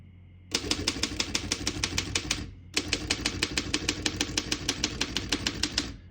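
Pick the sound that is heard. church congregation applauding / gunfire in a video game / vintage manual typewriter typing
vintage manual typewriter typing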